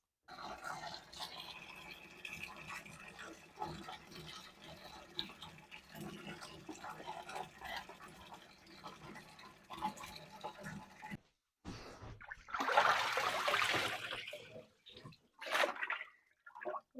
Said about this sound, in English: Place our hides into the neutralizing bath and just let them float around